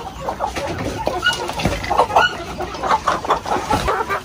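Shamo chickens on a farm in General Santos City cluck and call in an ongoing, close and fairly loud burst, with several birds overlapping and no talk.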